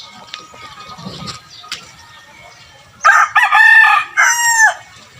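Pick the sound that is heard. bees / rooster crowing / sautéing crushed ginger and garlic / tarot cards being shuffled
rooster crowing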